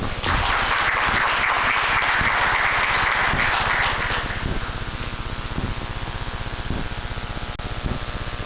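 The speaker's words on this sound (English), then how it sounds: "Could you give our donors another round of applause?" Luncheon audience applauds donors at a scholarship event, a thick burst of clapping for about four seconds that tapers off into a steady room hum broken by a few soft thumps.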